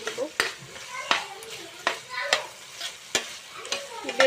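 Potato pieces fry in a pan while a spatula stirs them in repeated scraping strokes, each stir a sharp scrape over a soft ongoing sizzle, close and fairly quiet.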